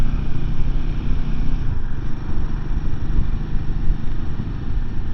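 A 2024 Royal Enfield 450 Himalayan motorcycle accelerates with a steady, loud engine drone, heavy wind buffeting the microphone over a dense low rumble, and no voices.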